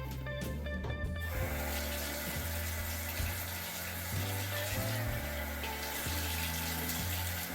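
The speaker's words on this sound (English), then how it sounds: "I'm going to add a little bit of water to activate it even further" Tap water runs steadily into a sink while face cleanser is washed off, a continuous close hiss of flowing water with faint background tones.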